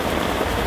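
Heavy rain pours onto a tarp stretched over a tent during a thunderstorm, a dense, steady hiss of drumming drops, close and loud throughout.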